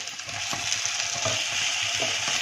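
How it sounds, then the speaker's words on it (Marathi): Corn paste is stirred into a simmering sweet corn soup, a steady close bubbling hiss with soft rhythmic scraping of a spoon through the thick liquid. "यामध्ये आता कॉर्न पेस्ट घालूया."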